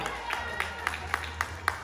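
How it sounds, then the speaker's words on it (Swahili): Brief rhythmic clapping for Dr. Ibrahim Chenza at a sales training seminar, a handful of sharp claps spaced evenly over a low room hum, fairly quiet and distant. "Makofi kwa Dr. Ibrahim Chenza"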